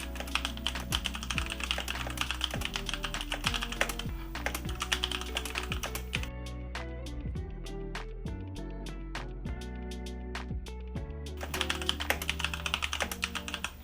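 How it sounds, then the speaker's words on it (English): Fast, steady typing on a Logitech G Pro keyboard in League of Legends Edition, with dense crisp keystrokes clacking continuously and close, interrupted only by a brief slower patch midway. "let's do some short typing test"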